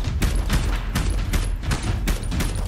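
Launcher fire in the Minecraft video game: a rapid run of loud, sharp shots in a steady rhythm, about six bursts over a few seconds, with no talk over them.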